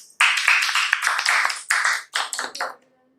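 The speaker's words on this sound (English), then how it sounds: "Give her a big clap" At a preschool gathering, a small audience gives a short, loud round of clapping in uneven bursts that quickly taper off.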